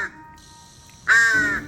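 A wild young crow gives two harsh caws, a brief faint one at the start and a louder, longer one near the end, close up over a quiet room with no talking.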